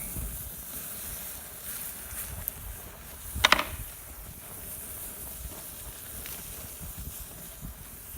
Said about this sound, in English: We're gonna put this sandwich right here on the grill, butter side down, just like that.